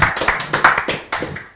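Applause from a studio audience for the Kevi Trizi family, a quick burst of hand claps with sharp repeated peaks, close and fairly loud, with no talking over it.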